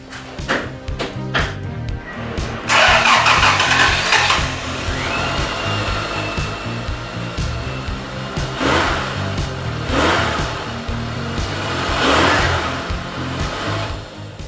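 A 1986 Honda Civic Si fitted with a Prelude igniter module cranks briefly, then catches and runs loudly up close, settling into a steady idle broken by a few rising rev swells.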